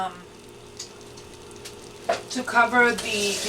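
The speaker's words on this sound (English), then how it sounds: "now we're going to add enough water to cover the" Water pours into a pot of sautéed garlic and pumpkin, a soft sizzle giving way to louder splashing and bubbling toward the end as the liquid hits the hot pan.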